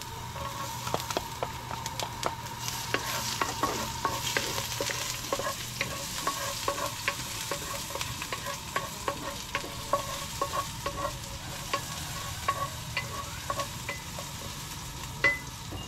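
Ginger and garlic sautéing in a pan, a steady sizzling hiss punctuated by frequent quick clicks and scrapes of a spatula against the pan, close by and continuous with no voices.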